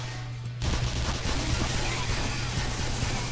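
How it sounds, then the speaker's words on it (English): Continuous gunfire in the first-person shooter Black Mesa, a dense fusillade that starts abruptly and then rattles steadily without a break, loud and close against a constant low hum. "Who's shooting me?"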